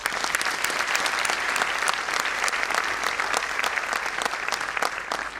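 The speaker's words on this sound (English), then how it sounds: "Can we clap for them?" Steady, dense applause from a large crowd at a school annual function, sustained for several seconds without a break.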